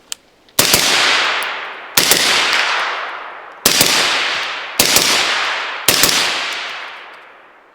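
Five suppressed AR rifle shots through a Dead Air Sandman S, each a sharp crack followed by a long fading ring, spaced roughly one to two seconds apart outdoors.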